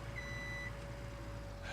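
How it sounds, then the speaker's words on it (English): A truck's backup beeper sounds in Farming Simulator 17, a short steady electronic tone over a low engine drone, heard alone. "That backup beeper, though."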